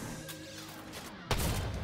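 A burst of gunfire in the video game Fortnite, a sharp loud crack at the end of a steady background game soundscape, with no talking over it.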